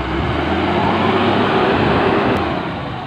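A loader scoops coarse sand into a trailer truck, its engine and machinery producing a loud, steady broadband rumble close by that fades slightly toward the end.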